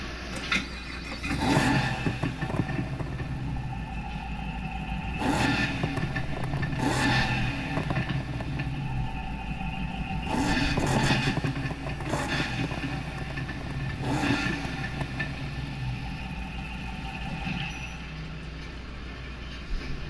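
A 735-horsepower 1967 Chevrolet SS in a racing game revs in repeated sharp bursts every second or two over a constant engine drone, loud and close with no voices.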